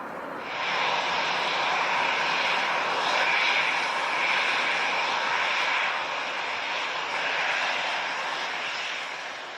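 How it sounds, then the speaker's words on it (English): An Airbus A321 jet landing in severe wind shear, a loud, continuous broadband engine roar and rushing wind that swells in and holds steady, with no voices. "Sun-class Airbus A321 struggles with severe wind shear,"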